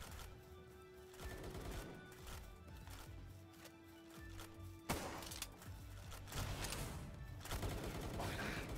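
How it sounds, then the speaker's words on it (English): Gunfire in the Palworld video game, bursts of rapid shots and thumping impacts coming in irregular volleys, with a sharp loud crack midway and continued firing after it. "Who is shooting me?"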